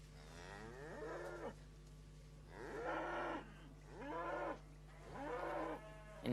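Cattle moo repeatedly at a campdraft event, with four long, loud bellows that rise and fall over a steady low hum.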